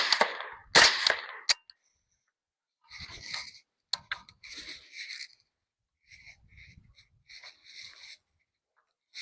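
Suppressed rifle shots through a Deadair Sandman X suppressor with the gas system set for suppressor mode: two loud, sharp, close reports at the start, then quieter scattered clanks and mechanical handling noises with gaps of silence.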